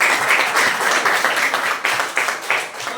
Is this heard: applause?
yes